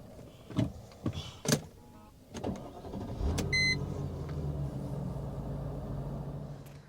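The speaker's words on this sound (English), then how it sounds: "I absolutely love the way this thing sounds starting." A Mercedes-Benz W210 E430 with a V8 engine starts up after a few clicks and electronic beeps, the starter catching into a loud rumbling idle that holds steady nearby.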